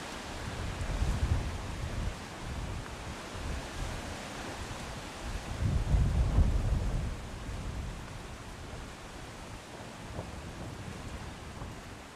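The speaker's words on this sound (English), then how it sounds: "Now the southeaster's howling. It's really getting strong." Strong gusting southeaster wind howling across an outdoor pairs tournament final, a broad continuous roar that swells and eases in gusts, loudest in the middle, with no talk.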